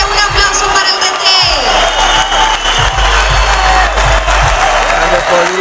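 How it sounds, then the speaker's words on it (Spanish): A crowd claps and cheers for the coach of the América de Cali football club at a public event, loud and sustained with whoops, over a heavy low rumble and background music. "Adelante, un aplauso para el DT."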